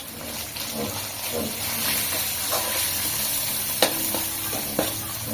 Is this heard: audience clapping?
no